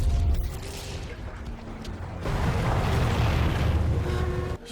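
An explosion that destroys houses in the World of Warcraft Shadowlands Afterlives cinematic makes a loud, sustained roaring rumble with deep booms that swells partway through and then cuts off.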